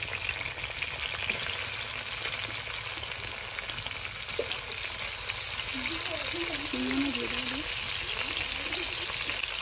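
Cauliflower pieces frying in hot oil in a Bengali kitchen, a steady broadband sizzle running throughout with a few faint stirring scrapes and brief voice-like tones near the end.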